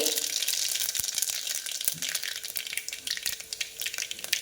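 Oil sizzles in a pot as mustard seeds and cumin go in for moong dal khichdi, a steady bright hiss with small pops and crackles, close and moderately loud, no one talking.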